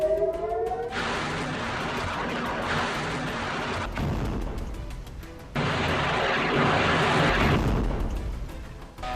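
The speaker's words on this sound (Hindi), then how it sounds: "इस हमले की वजह से मैनिशे और नेतन्या सेटलमेंट के उत्तर पूर्वी इलाकों में हवाई हमलों के सायरन बजे।" Air raid sirens sound across Israeli settlements in the Menashe and Netanya area during a Hezbollah drone attack, heard as loud, sustained broadband noise in two long bursts with a short drop in between.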